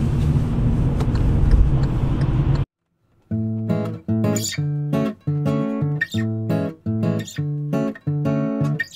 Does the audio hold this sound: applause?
no